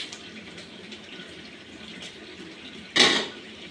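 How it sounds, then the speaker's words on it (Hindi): Potatoes tipped into a cooking pot of spices with garam masala for Hyderabadi-style achari aloo: a quiet kitchen background, then one sudden clattering splash near the end that fades quickly. "उसके बाद हम इसमें ये आलू डालेंगे।"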